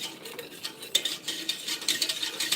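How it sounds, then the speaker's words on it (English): Milk gravy being stirred constantly in a pan for an open-face turkey dish, giving a close, steady scraping and swishing with soft utensil clinks and no talk. "Now, I'm stirring constantly because I want it to brown for me."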